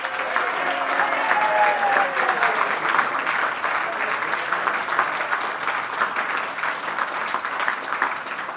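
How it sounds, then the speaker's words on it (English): A large audience applauds steadily and loudly for Ian at the close of an evening event, dense clapping sustained throughout with a few faint voices mixed in. "round of applause for Ian and everything he's done"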